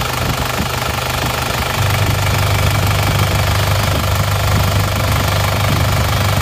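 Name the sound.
car engine running with oil filler cap open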